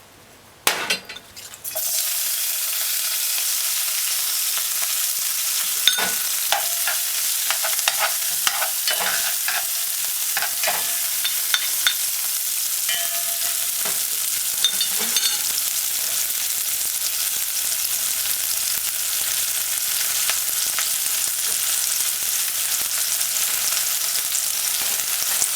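Seasoning sizzles steadily in about a quarter cup of hot oil for ackee and saltfish, with a continuous frying hiss and scattered clinks and scrapes of a spoon stirring the pan, no talk.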